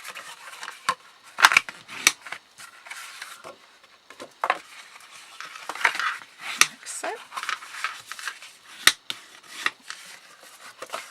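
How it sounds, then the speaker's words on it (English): Paper score lines on a handmade cardstock box are folded and burnished, giving soft scraping rubs and crisp paper creases in irregular bursts, close and fairly quiet with no talking. "Next we're going to fold and burnish all of these score lines."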